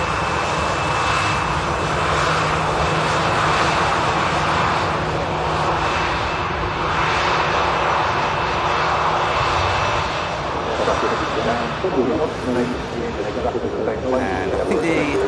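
Aircraft taxiing at Manchester Airport, a steady loud engine roar and whine that continues throughout, with voices talking over it.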